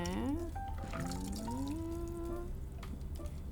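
Cocktail pours into a hurricane glass, the liquid's pitch rising steadily as the glass fills, then trickling off into a few drips, with background noise and no talk.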